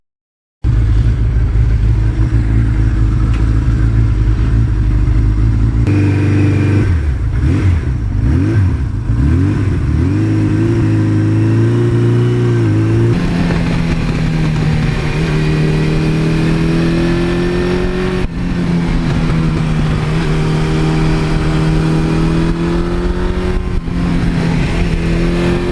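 A 1982 Suzuki GS1100E motorcycle engine runs steadily and loud throughout, rising and falling in pitch as it revs and shifts through the gears while riding on an open road, with no voices.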